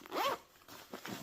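A zipper on the flat pocket of a vintage coat is pulled in one quick rising zip, followed by softer rustling and fabric handling close by.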